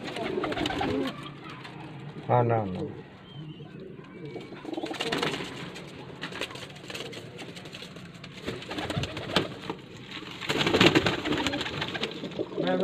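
Racing pigeons coo in a loft, near and fairly soft, with a few rolling coos standing out among background rustle and brief speech from a man.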